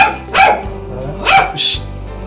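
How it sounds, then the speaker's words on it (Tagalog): A dog barks nearby: two or three sharp barks spaced about a second apart, loud and close. "Aso na yun."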